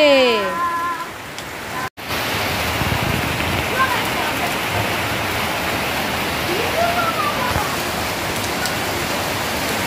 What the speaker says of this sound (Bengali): বৃষ্টি হচ্ছে, মন ভিজছে।